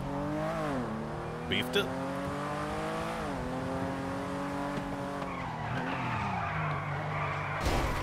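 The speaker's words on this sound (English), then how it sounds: "Hit a wicked drift" Tires squeal as a car slides through a drift in a video game, a wavering engine whine rising and falling beneath it while someone talks over the skid.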